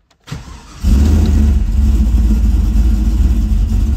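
An LS car engine being checked for a vacuum leak cranks and catches, then settles into a loud, steady running rumble close by.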